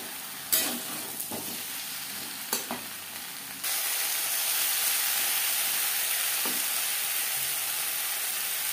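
Potatoes fry in a pan over a high-to-medium flame, giving a continuous sizzle. A few sharp scraping clacks of stirring come early, and the sizzle then swells to a louder, steady hiss.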